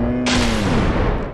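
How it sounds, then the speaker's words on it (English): A single heavy gunshot fired through a wall in the tactical shooter Ready or Not, a sudden loud crack with a rumbling tail over steady background noise. "Shot through the wall."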